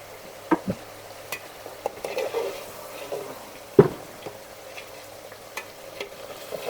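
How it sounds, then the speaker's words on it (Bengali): Beef sizzles softly as it is stir-fried for bhuna, while a spatula scrapes and knocks against the pan now and then, with one louder clank midway. "মাংসটা এখন আমরা কষিয়ে নিচ্ছি"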